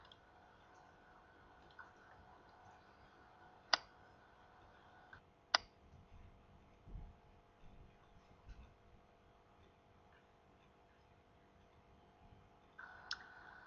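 A few sharp, quiet computer mouse clicks sound at uneven intervals over a faint background hum, with no talking.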